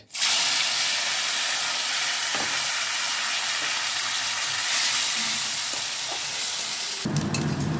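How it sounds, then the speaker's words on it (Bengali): Chopped onions hiss and sizzle steadily in hot oil with whole garam masala, cumin seeds and bay leaf, a loud, dense, close frying sound that holds for about seven seconds before it shifts. "পেঁয়াজগুলো পেঁয়াজ ভাজা ভাজা হয়ে গেছে"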